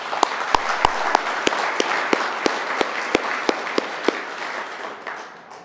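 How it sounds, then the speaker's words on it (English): Sustained audience applause at a formal forum, greeting introduced guests and experts with a dense, steady wash of many hands clapping, a few sharper claps standing out, before tapering off at the end. "Please give them a round of applause."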